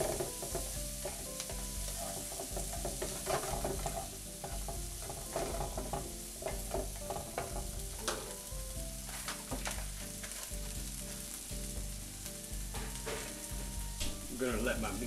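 Half a cup of onions and mushrooms sautéed together in a pan, with continuous close sizzling and frequent clattering scrapes and taps of a utensil stirring throughout, no talk.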